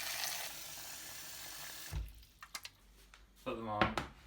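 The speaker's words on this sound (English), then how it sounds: "put them in cold water" Cold water pours steadily into a pot of potatoes for about two seconds, then stops, followed by clunks and a voice speaking.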